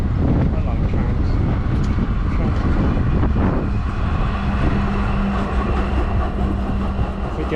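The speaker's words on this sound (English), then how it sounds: "Oh, it's a tram." A tram rolls past on a town street, a loud continuous rumble with a sustained low hum and metallic whine, heard up close over wind noise while cycling.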